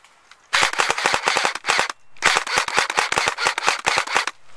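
Airsoft gunfire during an outdoor skirmish in ugly weather: rapid bursts of sharp, loud cracking shots, one long volley then a short pause and another long string of rapid fire, close and dominant.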